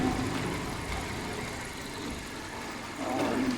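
A motorcycle engine humming steadily during a ride in cold hill country, a moderately loud broadband drone mixed with wind rush that swells near the end.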